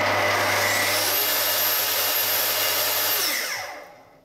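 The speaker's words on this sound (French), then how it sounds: "vous allez entendre le moteur qui démarre, et à quel moment il va être à plein régime" Festool TS55 plunge saw motor whining loudly and steadily at full speed, a high rising tone near the start, then winding down quickly as the electronic brake stops the blade at the end.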